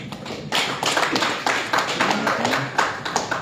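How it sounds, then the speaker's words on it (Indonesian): A crowd claps together at a public gathering in Indonesia, a loud, dense wash of hand claps with a few stronger accents, carrying through the whole short stretch without any speech over it. "Tepuk tangan kita semua."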